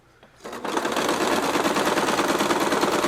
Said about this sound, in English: Don't be afraid to stop your machine so you can adjust your fabric